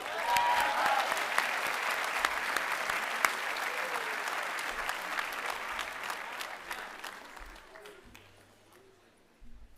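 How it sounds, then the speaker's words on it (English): Sustained applause from a large audience fills an outdoor commencement ceremony at Cushing Academy, dense and steady before tapering off, with a voice briefly speaking over it. "Let's give him a round of applause."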